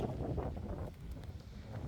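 Steady wind buffeting a microphone, a dense low rumble with gusty swells throughout, no voices.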